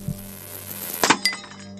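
A light bulb in a corridor cracks in a short glassy burst with a clink, set in a horror story over a low, steady electrical hum.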